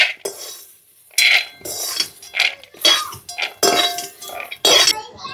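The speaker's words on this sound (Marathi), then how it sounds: "तर याला आता मी टोपल्यामध्ये काढून घेते." Roasted green soybean grains scraped from a pan into a basket in a home kitchen, giving clinking metal scrapes and dry rattling bursts in short repeated strokes, close and clear with brief quiet gaps between.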